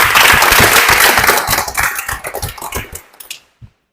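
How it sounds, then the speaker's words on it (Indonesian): A classroom of students in a welding and metal fabrication class claps hands together in a short burst, loud and close at first, then thinning into a few scattered claps before stopping. "Tepuk tangan buat kita semua."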